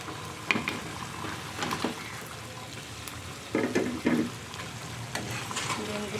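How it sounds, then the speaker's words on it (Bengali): Eggs go into a pan of thickening egg curry gravy, bringing soft sizzling and spoon stirring, with a few clinks and wet splats between quiet stretches. "আমি এখন ডিমগুলো দিয়ে দিব এটার মধ্যে"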